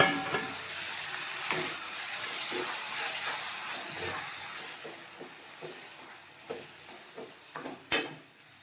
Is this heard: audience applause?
no